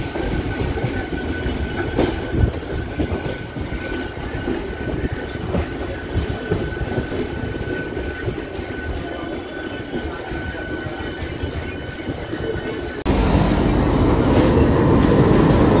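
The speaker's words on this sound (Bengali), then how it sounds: "ট্রেন হাওড়া এসে গেছে," A local train of the Eastern Railway Howrah division rolls into Howrah Junction with a continuous rumble and clatter of wheels, a faint squeal, and a louder roar near the end.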